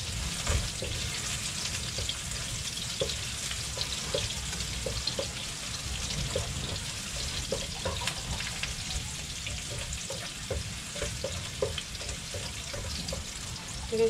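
Onions fry in a pan with a steady, broad crackling sizzle that runs unbroken throughout, with faint clinks and a light watery rush in the background.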